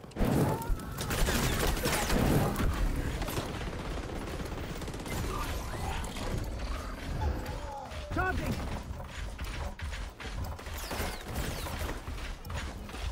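Gunfire in the video game XDefiant: bursts of rapid shots early on, then scattered shots and mechanical clicks over game ambience, with a voice talking at times.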